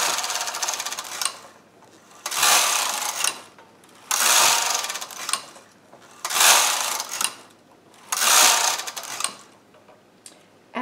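A Studio 150 chunky knitting machine working rows: five long whooshing carriage passes, each about a second, separated by short quiet pauses, close and fairly loud.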